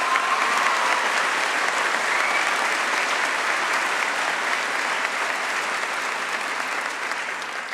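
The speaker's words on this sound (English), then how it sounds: "Ladies and gentlemen, a round of applause, please." Steady, dense applause from a graduation audience at a 2014 high school ceremony, sustained at even strength for several seconds before easing slightly toward the end, with no voices over it.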